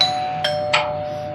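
A doorbell sounds indoors, a steady electronic tone with two short bright chimes close together, with no voices.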